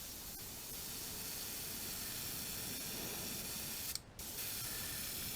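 An airbrush sprays paint onto a crappie crankbait lure, producing a steady, soft hiss of air close by, briefly cut off once before resuming.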